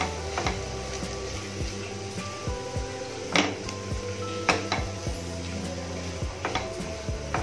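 A spoon stirs mashed potato into a semolina breakfast mixture in a pan, giving repeated scraping and clinking knocks against the metal at an uneven rhythm, close and fairly quiet.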